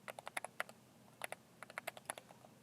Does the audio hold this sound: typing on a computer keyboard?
yes